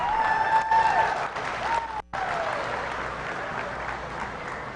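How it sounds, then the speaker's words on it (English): A crowd at a youth fair and livestock show applauds in a steady, even wash of clapping for nearly five seconds, with a thin tone audible early on and a brief dropout midway. "Let's give all of them a round of applause."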